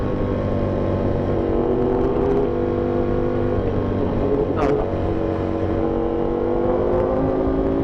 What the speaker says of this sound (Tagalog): Wala, ano lang yan, sabay-sabay yung mga truck.